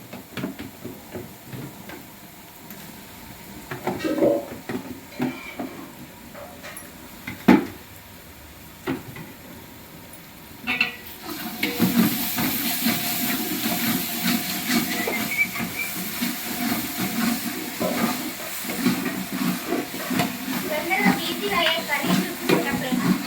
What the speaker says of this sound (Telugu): ఇక అల్లం ఎల్లిగడ్డ పేస్ట్ వేస్తున్నా.